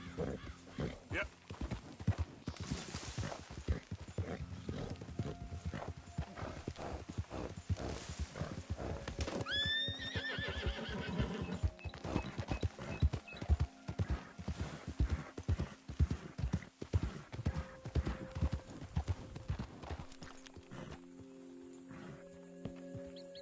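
Horse hooves clip-clop steadily in the Red Dead video game, with a few whinnies and a brief voice near the end, the hoofbeats staying close and fairly loud throughout.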